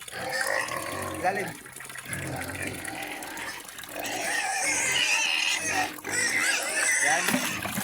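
Pigs grunting and oinking noisily on a farm before feeding, a busy mix of close snorts and squeals that runs throughout, with someone speaking over them.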